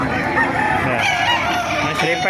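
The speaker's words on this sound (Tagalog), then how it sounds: "Ito po, dahil po mga manok ito" A rooster crows amid a noisy crowd of clucking chickens at a chicken market in Bocaue, Bulacan, Philippines, with people chattering close by.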